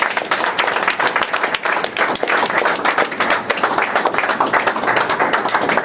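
A church congregation claps steadily in praise during a worship service, the sharp hand claps blending into a thick, unbroken wash of applause throughout.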